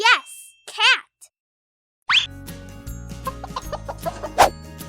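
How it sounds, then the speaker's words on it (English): Farm chickens cluck in a few short bursts at first, then after a pause a denser run of clucks follows over a low background hum, close and moderately loud. "Chicken."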